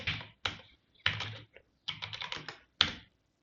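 Command typed on a computer keyboard, several quick bursts of close keystrokes separated by short pauses, ending in one sharper key press, with no talking.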